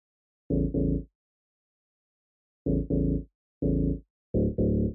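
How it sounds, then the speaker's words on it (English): A thump bass synth from an R&B beat plays short, deep, punchy notes, mostly in quick pairs separated by silence. Each hit is loud and clean, with nothing else sounding. "Now the second bass I added was more like a thump bass and it sounds like this."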